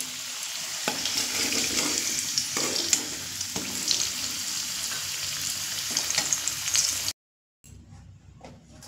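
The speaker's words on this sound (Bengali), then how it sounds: "এবার যে আগে থেকে আমি এঁচোড় সিদ্ধ করে নিয়েছি, ওই এঁচোড়গুলো ভেজে নেব" Boiled green jackfruit pieces fry in oil in a pan, with a loud continuous sizzle and occasional stirring scrapes, no talking, before a brief cut to near silence and a quieter sizzle.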